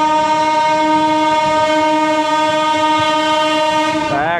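Saraighat Express passenger train blowing a loud, sustained horn at close range, the steady multi-tone blast holding for several seconds before bending in pitch as it passes, with faint rumble beneath.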